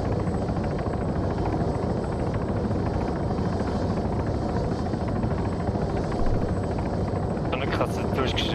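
Helicopter flying in the video game Arma 3, a loud continuous rotor and engine drone that stays steady throughout, with a brief burst of higher hiss near the end.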